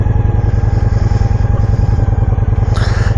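Honda Shadow 750 ACE motorcycle engine running close by, a loud, steady, low throbbing pulse with a fast even beat and a faint rattle throughout.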